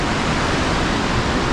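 A mountain stream on the Manimahesh Yatra trek rushes beside the trail, with steady, loud, dense broadband water noise that neither swells nor pauses and has no voices over it.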